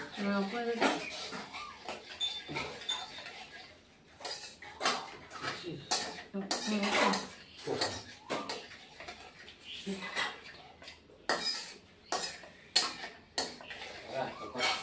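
Masala being stirred and sautéed with a little water in a pan for a pabda fish curry, with repeated close clinks and scrapes of a spatula against metal in an irregular rhythm, and a voice talking at times.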